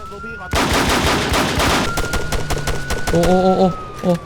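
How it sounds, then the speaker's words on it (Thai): Gunfire in the Altis Life video game: a loud burst of rapid gunshots followed by several spaced single shots, with a siren-like tone and game sounds throughout. "โอ้โหเขายิง เขายิงกันแล้ว"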